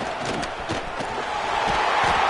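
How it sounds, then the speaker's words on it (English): American football stadium crowd at a Michigan game, roaring continuously at a steady, loud level as the home defense pins the opponent deep, a dense wash of voices without distinct speech. "this crowd trying to help keep them there"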